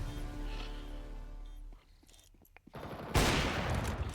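Gunfire in Counter-Strike 2, a loud burst of shots that stops, followed by a short quieter pause and then a second dense, harsh burst of automatic fire up close.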